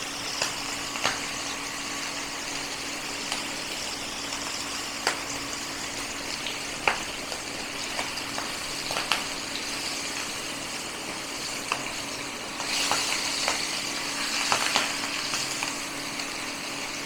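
Hilsa fish fries in a pan with a steady, even sizzle and scattered small pops and crackles throughout, growing slightly busier toward the end, with no talking.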